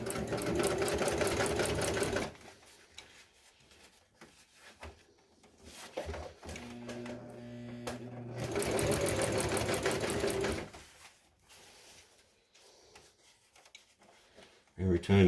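A sewing machine stitches seat upholstery for a 1966 GMC bench seat in two loud, rapid bursts of needle clatter separated by quiet pauses, with a person speaking and material being shifted between runs.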